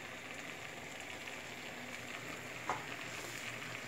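Chicken curry sizzles and fries in a pan while being stirred, giving a steady, soft crackle with a brief scrape of the spoon near the end.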